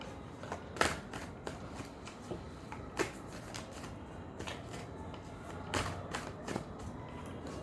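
Tarot cards being shuffled by hand during a reading, a run of soft riffling and slapping bursts with sharp peaks around one, three and six seconds, close and fairly quiet with no talking.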